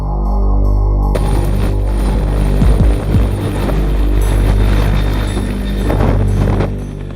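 A helicopter lifts off from an expedition camp in Greenland's polar wilderness, its loud low rotor thump and engine roar close at first, then churning on with wind buffeting, no voices.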